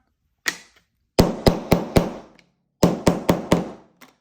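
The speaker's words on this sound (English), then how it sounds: "Hammer those down just a little bit more." Sharp hammer blows strike wood in quick bursts: one lone hit, then a run of four, a pause, and another four, loud and close.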